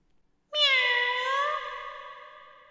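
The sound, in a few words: cat meowing in the video game Taisho x Alice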